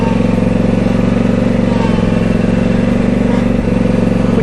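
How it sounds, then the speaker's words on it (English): A Cub Cadet XT3 GSX garden tractor with a 54-inch mower deck idles steadily close by, its engine giving off a constant low, throbbing rumble with a faint mechanical clatter throughout. "Turn the key switch. When the engine starts up, turn your choke off right away."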